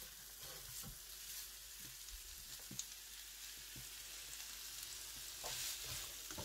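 Vegetables for chicken spaghetti stir-fry sizzle steadily in a hot pan, a continuous crackling hiss broken by a few brief clinks and scrapes of stirring, close and moderately loud with no talking.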